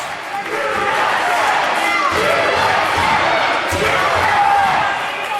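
A wrestler's takedown slam in the ring during an eight-man tag team match at Big Time Wrestling in Danbury, CT: dull thuds nearly buried under a loud, steady roar of an excited crowd.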